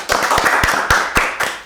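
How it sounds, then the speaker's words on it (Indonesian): Applause greeting the bakery owner Andi Aulia as he is introduced on a talk show: a short burst of several sharp, uneven hand claps from a small audience, close and fairly loud, with no talk over it. "Tepuk tangan."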